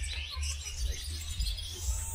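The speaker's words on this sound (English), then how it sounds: "Some birds over there on the tree as well." Birds sing in a tree at a zoo in Entebbe, Uganda, with faint, scattered high chirps and tweets over a low background rumble.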